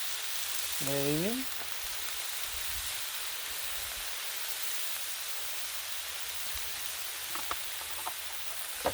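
Butter sizzles on a hot flat-top griddle for cheesesteak sandwiches, a steady hissing crackle throughout, with a brief voice near the start and a few sharp clicks toward the end.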